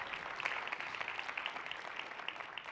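Audience at a fintech pitch competition applauding, steady dense clapping from a seated crowd, fairly distant and even throughout.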